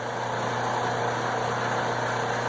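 A hand drill bores into metal, whirring steadily at close range, a continuous motor drone with a constant pitch and no pauses.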